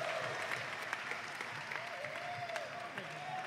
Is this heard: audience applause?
yes